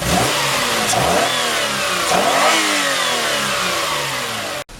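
A used car's engine revs hard during a mechanical inspection, its pitch sweeping up and down in two or three loud, close throttle blips before cutting off abruptly near the end.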